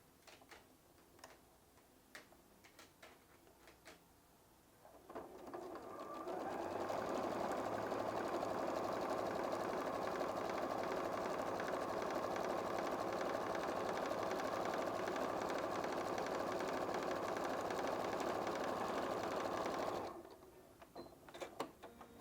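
A sewing machine stitches a quilted patchwork and appliqué fabric bag, running in one steady continuous burst for about fifteen seconds after a few quiet handling sounds, then stopping.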